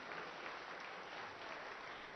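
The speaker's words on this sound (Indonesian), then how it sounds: "Kita berikan tepuk tangan yang meriah untuk ke-6-nya." Faint, distant applause from an audience at a televised Aceh gubernatorial candidate debate, a steady wash of clapping that holds evenly throughout.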